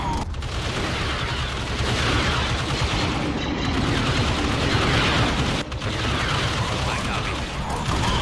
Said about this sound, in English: Deploy cover and open fire